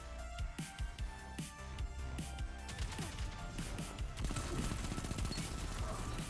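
Rapid SMG fire in the shooter Destiny 2: quick bursts that roll into a sustained, dense stream of shots, loud and close, with impact crashes and little talk over it.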